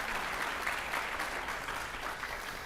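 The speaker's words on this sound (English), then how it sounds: "So let's welcome them with a warm round of applause." A crowd at a climate and community summit session on rebuilding after Hurricane Ian applauds to welcome panelists, with steady, even clapping that stays moderately distant and quiet for the whole stretch.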